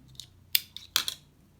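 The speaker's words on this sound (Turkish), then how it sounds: "ipimi kesiyorum" Scissors snip crochet thread in a few quick, crisp cuts, close and clear against a quiet background.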